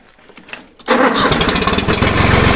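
A small engine on a homemade ejector rig for a vacuum pumpkin seeder cranks and catches after a quiet moment. It bursts into a loud, steady, close running chug that holds to the end.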